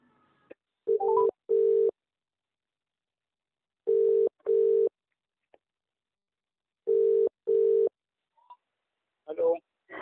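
Telephone ringback tone from a recorded call, three pairs of short double rings separated by silence, with brief bursts of a voice in between.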